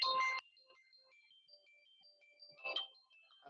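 A phone ringtone sounds for an incoming call, a short loud burst at the start, a quieter melodic tone pattern through the middle, then another burst near the end, with no talk over it.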